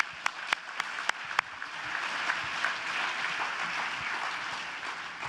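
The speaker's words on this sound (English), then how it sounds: "Let's give him a round of applause" A conference audience at a leadership congress applauds a college president, a few sharp individual claps at first, then swelling into steady, moderately distant applause that carries on evenly.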